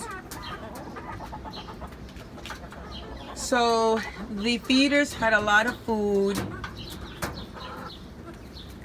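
Hens cluck and squawk close by in a short burst, their calls rising and falling, while a person talks over and around them.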